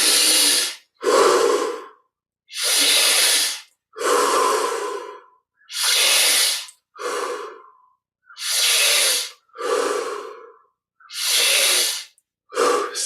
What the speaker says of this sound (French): Pour les 10 dernières respirations, un petit peu plus d'amplitude